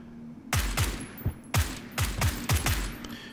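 Gunfire in PUBG on Xbox One, a rapid series of sharp, loud shots in uneven bursts with short gaps between, each crack followed by a brief echoing tail.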